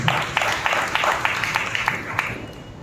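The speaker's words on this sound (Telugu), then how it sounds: "బిగ్గరగా చప్పట్లు కొట్టి ప్రభువును మహిమపరచండి" A church congregation claps loudly in praise, steady rhythmic applause filling the room for a few seconds, with a voice faintly over it.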